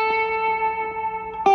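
A sustained electric guitar note through a Strymon El Capistan delay pedal rings with repeating echoes trailing off, then a fresh pick attack near the end.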